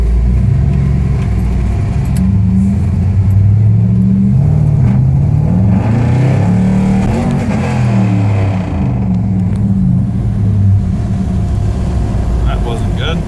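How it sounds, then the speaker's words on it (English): An LS-swapped 1967 Chevrolet Bel Air on a test drive: a steady, loud engine drone heard from inside the car, rising and falling in pitch as it accelerates and eases off, with someone talking at times. "Okay, out here test driving."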